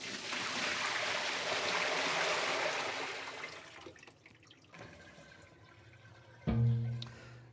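Water pours out of a tipped wet/dry vacuum in a heavy, continuous gush that slowly tapers off, followed by some sloshing and a dull thump near the end.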